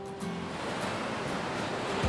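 Ocean surf on the East Sea coast near Samcheok, Gangwon, heard as a steady, faint wash of breaking waves with no voices over it.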